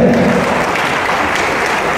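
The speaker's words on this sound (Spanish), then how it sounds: "Maravilloso aplauso para Poliruro La Fer" An audience at an arts and culture centre in Burzaco claps for a performer, dense sustained applause from a crowd, loud and even throughout with no pauses.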